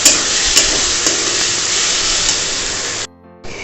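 Ginger paste frying with onions in a hot pan gives a loud, steady sizzle with a few sharp stirring clicks, then cuts out abruptly and returns near the end.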